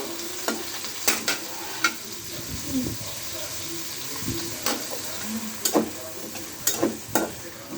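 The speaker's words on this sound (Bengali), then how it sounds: "এখন আমি পেঁয়াজ কুচি দিয়ে দিলাম, অনেক ফুটতেছে।" Chopped onion and whole spices frying in a pan for a pumpkin dish with chicken gizzard and liver, a steady close sizzle broken by repeated spatula scrapes and taps.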